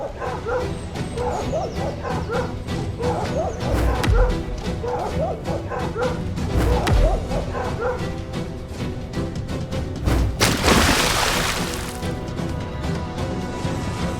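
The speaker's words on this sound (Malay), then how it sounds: "Anjing kita menyerang pelanduk tu." Dogs bark and yip repeatedly at a mousedeer in an animated scene, the barking steady and close over a busy soundtrack, with a burst of crashing noise near the end.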